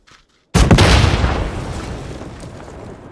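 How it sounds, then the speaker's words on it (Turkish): A rocket launcher in the battle royale shooter PUBG goes off in one sudden, loud, close blast that rumbles and slowly fades over a few seconds after a short silence. "roket atacağım"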